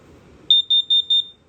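An LP and carbon monoxide detector in a 2024 Forest River Salem Hemisphere Hyper-Lyte 25RBHL travel trailer gives four quick, shrill, evenly spaced test beeps. Close and clear in a quiet room.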